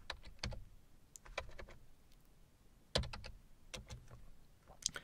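Keystrokes on a computer keyboard while entering a PowerShell command, sparse irregular clicks and taps in short bursts, close and clear with no talking.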